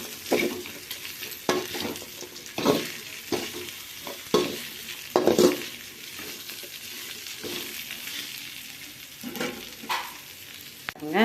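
Amla gooseberries tempering with salt in a hot pan, stirred in irregular scraping strokes over a soft, steady sizzle, with no one talking.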